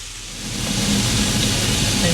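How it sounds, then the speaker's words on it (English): An electric kettle switched on to heat water gives a steady broadband rushing hiss that swells and holds, loud and close. "Pop the kettle on."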